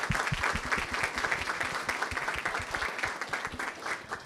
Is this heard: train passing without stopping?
no